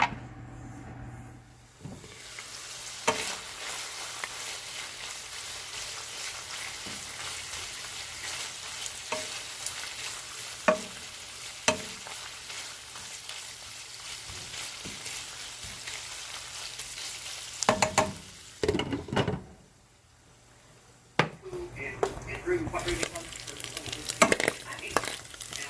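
Food fries steadily in a pan at a camper cooking setup, a continuous sizzle running throughout with occasional clinks and stirring knocks, a brief pause near the end before the frying resumes.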